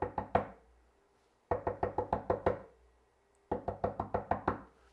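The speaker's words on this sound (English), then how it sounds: "you can do knocks on wood" Knuckles rapping on wood for sound effects recording, three groups of crisp, close knocks (three, then seven, then six) separated by short pauses in a quiet room.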